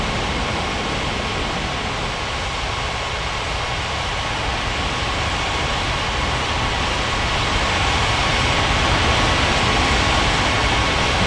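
A KLM airliner takes off at Ngurah Rai Bali in Unmatched Air Traffic Control, a steady broadband jet engine roar that holds throughout and swells slightly toward the end, with no talk.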